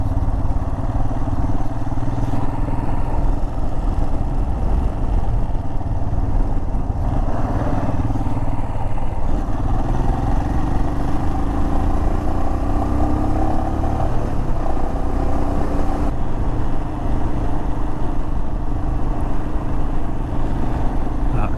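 Steady motorcycle engine drone while cruising on a Texas highway, a continuous loud rumble mixed with wind roar and no pauses throughout.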